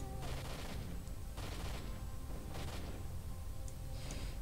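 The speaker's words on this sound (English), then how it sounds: "Someone's shooting at something." Gunfire in S.T.A.L.K.E.R.: Shadow of Chernobyl: a few bursts of shots sound at a distance, quiet and muffled under a steady low background hum.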